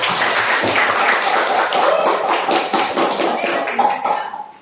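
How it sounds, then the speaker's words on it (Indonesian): A classroom of students claps for a classmate, a loud, close burst of many hands that stays dense and lively before tapering off at the end. "Ayo berikan tepuk tangan."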